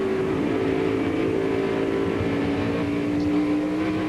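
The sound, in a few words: NASCAR race car at wide open throttle, spinning rear tires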